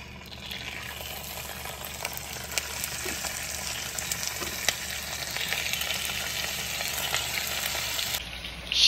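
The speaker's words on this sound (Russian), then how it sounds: "все остальное, ножки, бедрышки, крылышки, отправляем жариться" Chicken legs, thighs and wings frying in a pan for Georgian chakhokhbili with eggplant, a steady close sizzle and crackle with a few soft clinks, no talking.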